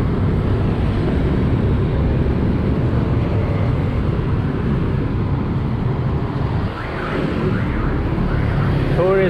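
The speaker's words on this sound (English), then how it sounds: "And lots of motorbikes." Constant motorbike traffic fills a busy Ho Chi Minh City street near a flower market, a dense steady engine drone with a brief dip and a faint horn near the end.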